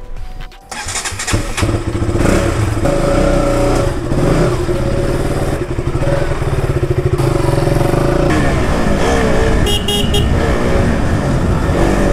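A KTM RC 200 motorcycle that needs brake service starts with a quick crank and settles into a loud, close, steady engine run that throbs unevenly for several seconds, with no talking.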